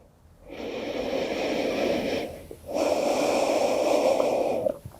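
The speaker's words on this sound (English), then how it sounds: "Finding that lovely flow of breath." Slow, deep breathing during a beginner's yoga child's pose, two long airy breaths close to the ear, each swelling steadily and fading, with a brief pause between and no talking.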